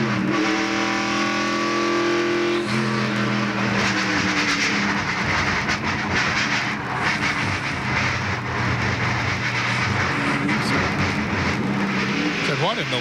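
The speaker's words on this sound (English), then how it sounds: "we told you about Phil Parsons losing a wheel a little bit ago. And here's how it sounds when it happens" In-car audio from a 1996 NASCAR Busch Grand National race car at Richmond as it loses a wheel: a loud, droning engine with shifting pitch, then a sudden change in tone and roughness, with commentators talking over it.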